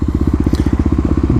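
A Kawasaki KLX250 single-cylinder motorcycle cruising at highway speed, its engine pulsing in a fast, steady rhythm, loud and close with wind rumble and no talk over it.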